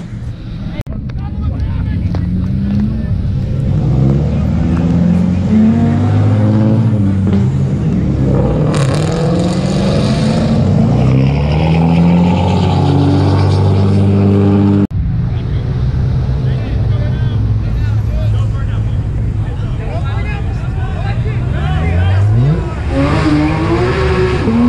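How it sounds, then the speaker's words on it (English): Sports cars revving their exhausts as they leave a Cars and Coffee meet in the Dallas–Fort Worth area, loud engine roars rising and falling with gear changes and passing vehicles, people talking underneath. "let them rev in the exhaust a little bit so we can get all of that"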